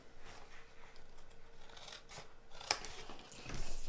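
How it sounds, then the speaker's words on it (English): Scissors snip a small piece off a scored card gift box, a soft rustling cut ending in one sharp close snip, then more card handling. "then you are going to cut off that little piece"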